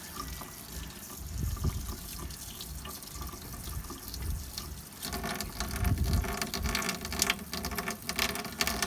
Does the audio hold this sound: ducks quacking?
no